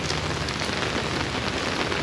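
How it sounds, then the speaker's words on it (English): Heavy rainstorm in Kansas, a dense, loud, steady hiss of pouring rain heard from under cover, with no break through the whole stretch. "Quite an amazing rainstorm."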